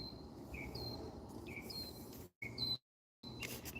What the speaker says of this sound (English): morning meditation with Val and the birds